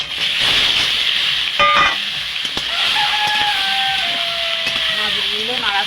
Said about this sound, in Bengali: মাছগুলো নাড়াচাড়া করে ভেজে নেব।